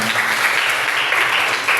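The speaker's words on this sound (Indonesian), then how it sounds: "Tepuk tangan untuk semuanya." Applause from a class of students rings out at close range, a steady dense patter of many hands clapping that holds evenly for the whole stretch, with no voices breaking through.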